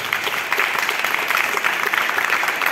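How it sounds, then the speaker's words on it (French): Audience applauding after a piano recital at an international music festival concert, steady dense clapping from a roomful of people, close and sustained throughout. "on applaudit bien fort Violeta."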